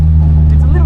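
A Hyundai Excel Cup race car's engine drones loud and low in a brief steady hum, close by, with a person talking over it.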